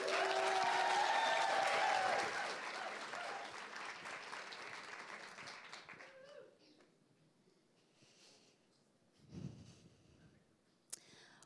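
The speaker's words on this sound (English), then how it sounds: "warm round of applause to Neo." Loud audience applause for a performer, dense clapping that fades out after about six seconds into quiet room noise with a brief rustle near the end.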